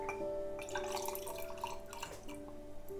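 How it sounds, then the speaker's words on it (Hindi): Juice poured into a glass holding ice cubes while making a summer drink, a steady close trickling liquid splash with faint clinks, running alone for about three seconds. "अब हम इसमें डाल लेंगे ये जूस।"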